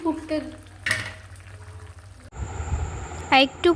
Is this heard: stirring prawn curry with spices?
yes